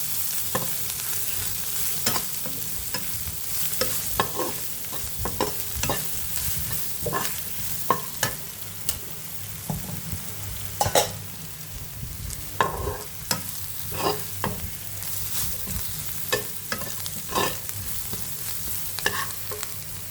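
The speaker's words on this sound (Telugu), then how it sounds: "కొంచెం పసుపు, కారం వేసుకొని అలా ఫ్రై చేసుకోవాలి" Spices sizzle in hot oil as pepper, turmeric and chili powder fry in a pan for an egg fry, with a soft steady hiss broken by repeated scraping stirs of a utensil against the pan.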